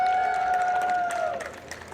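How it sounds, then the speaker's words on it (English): An audience applauds voice actress Malorie Rodak at a Frieren voice actor convention panel, a steady wash of clapping with a sustained tone, fading over the last second. "Everybody, round of applause for Malorie Rodak"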